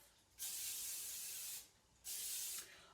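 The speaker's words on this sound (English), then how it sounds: "we're going to spray our glass pan" Cooking spray hisses from a can into a glass baking pan in two short bursts, the first about a second long and the second shorter, close and quiet in an otherwise still kitchen.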